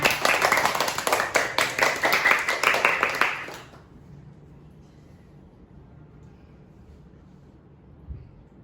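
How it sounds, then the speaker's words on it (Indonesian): Students in a classroom clap together in a short burst of rhythmic applause lasting a few seconds, then stop abruptly, leaving quiet room tone and a faint thump. "Oke, terima kasih anak-anak. Tepuk tangannya."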